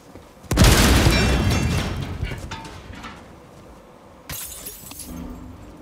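A grenade blast in the game Helldivers 2 erupts as a loud, close boom with a shattering, debris-like crash that fades over a couple of seconds, then a second, smaller burst follows near the end.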